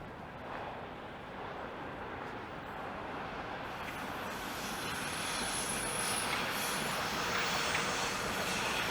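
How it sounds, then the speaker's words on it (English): A Toronto subway train rumbles past above ground at a distance in Crescent Town, with a steady rushing roar that slowly grows louder and faint wheel squeal high above the noise. "the subway runs above ground right through there"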